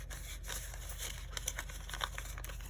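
Paper money being tucked into a small handmade paper dashboard with roughly torn edges, giving soft close crinkling and rustling paper sounds over a steady low hum.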